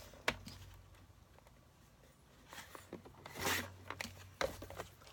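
Paper being cut for a waterfall card photo album, a few short separate cutting and rustling strokes, close and quiet, with gaps between them.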